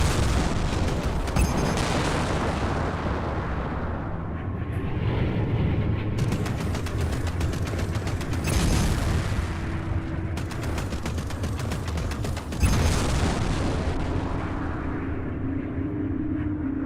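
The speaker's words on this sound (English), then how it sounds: "So you remember how to fire your plasma cannons." Plasma cannons fire in the space combat game Strike Suit Zero Director's Cut, a dense and continuous roar of weapon blasts and engine noise lasting the whole stretch, with a few sharper bursts standing out.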